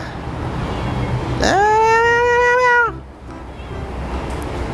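A cat gives one clear, drawn-out meow lasting over a second, close and loud against faint outdoor background noise, with no talk over it.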